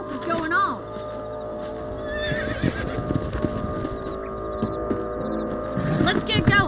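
Horses in the Wild West video game Red Dead Redemption on PC: steady clip-clopping hooves with a whinny near the start and another near the end, beside a constant background drone, with voices talking over it.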